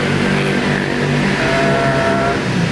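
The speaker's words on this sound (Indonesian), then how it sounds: "Bentar, suara motor." A loud, close Volkswagen car engine running steadily with a low rumbling hum and a slight rise in pitch, continuous throughout with no talking.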